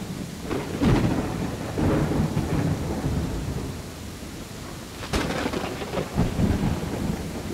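A thunderstorm in the Viking settlement-building game Land of the Vikings, with steady rain, rumbling thunder and sharp cracks of lightning striking, heard alone without voices.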